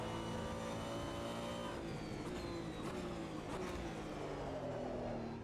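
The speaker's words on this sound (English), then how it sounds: "Yeah, the engine sound is quite good." Race car engine in the Automobilista 2 sim racing game, revving high then dropping through gear shifts with sweeping pitch changes, loud and continuous with brief clicks, no talk.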